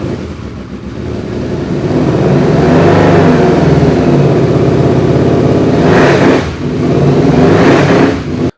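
A Benda Dark Flag Commander 500 motorcycle with a modified exhaust revs loudly and close up, a sustained throaty engine roar with two sharp throttle blips rising and dropping near the end.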